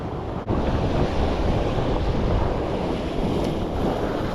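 Ocean waves at the Tamarack Beach jetty in Carlsbad, San Diego: a continuous broadband wash of surf mixed with heavy wind buffeting the microphone, loud and steady from start to finish.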